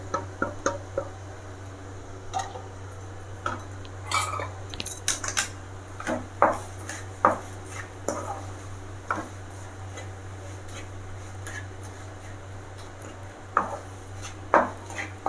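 Kolumichai pickle ingredients with green chillies get mixed in a bowl, producing sporadic clinks and scrapes of a utensil against the dish over a steady background hum, with no talk.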